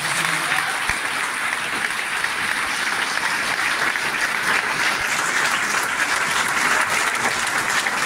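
Sustained, even applause from a seated audience at a career guidance seminar in Jhunjhunu rolls on for around eight seconds, loud and continuous, with no voices standing out.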